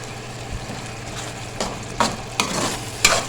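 Yogurt is added to a pan of green chickpea pulao, which sizzles steadily while a utensil scrapes and stirs in several soft, irregular strokes.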